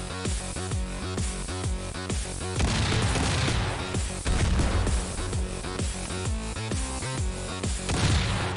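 Incendiary charges go off in the turn-based strategy game X-Piratez as a steady run of sharp, booming blasts, loud and close, repeating rhythmically for several seconds with no talk.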